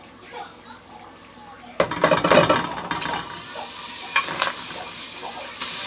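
Butter sizzling in a heated pot before cabbage goes in, a sudden burst of crackling and clatter that settles into a steady hiss with a few sharper pops, close and fairly loud.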